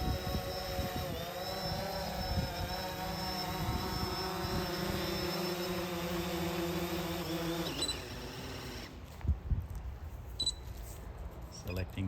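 A small drone flies in to land in ATTI mode, its rotors buzzing with a steady high-pitched whine over several seconds before the motors cut out and only faint knocks and handling noises remain.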